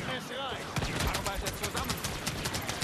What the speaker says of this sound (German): Alter, das waren 50 Schüsse, da war ich down.